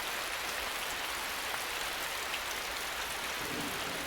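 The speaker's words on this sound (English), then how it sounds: "The canopy of the forest breaks the force of the rain and stops it from washing the topsoil away." Rain falls on a forest canopy in a dense, even hiss that holds steady and moderately loud throughout, with no voices.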